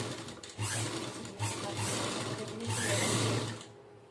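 A simple household sewing machine stitches a fall onto a sari, its motor whirring loudly up close in several runs separated by brief pauses before stopping at the end.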